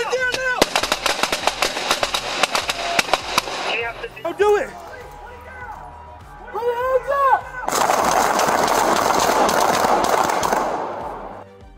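Police gunfire in Seattle against a man armed with a Mosin Nagant rifle: a rapid volley of sharp, loud shots, then shouting voices, then a second sustained burst of fire under heavy noise.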